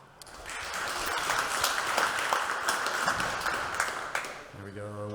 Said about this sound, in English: another round of applause for the Hacktivity crew for putting this on.